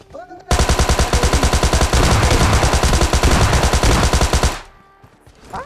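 Sustained automatic gunfire in the mobile shooter PUBG Lite: a dense, rapid burst of shots lasting about four seconds, loud and close, ending abruptly, with no talk over it.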